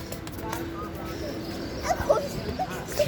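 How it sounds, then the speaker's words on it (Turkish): A dog yips and whimpers in short high bursts under constant household noise and background talk during an indoor hide-and-seek game. "Ana köpek."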